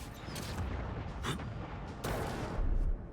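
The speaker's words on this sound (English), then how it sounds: "And beetles are exploding too." Beetles explode in the video game Avowed, giving several faint, muffled bursts spread over a few seconds against a low rumbling background.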